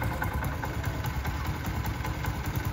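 A CD70 motorcycle engine idles steadily up close, a low, even throbbing rumble with no voices.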